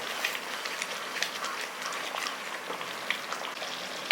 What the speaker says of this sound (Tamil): எல்லாமே சேர்த்து நல்லா கொதிக்க விடுங்க